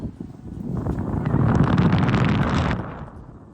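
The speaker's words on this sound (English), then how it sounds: "it's actually really windy" Strong wind buffets the microphone on a mountain summit near Keswick and Derwentwater, a loud continuous roar that builds and then eases away toward the end.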